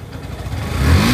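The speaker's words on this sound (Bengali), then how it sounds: "তো ইঞ্জিনের সাউন্ডটা শুনুন।" A Yamaha FZS motorcycle engine running close by after a tappet clearance adjustment, its steady hum rising into a louder rev toward the end.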